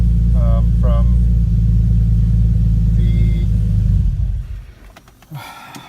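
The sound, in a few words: car engine idling on first start with AEM Infinity ECU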